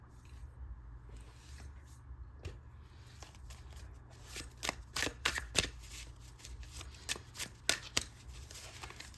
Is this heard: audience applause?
no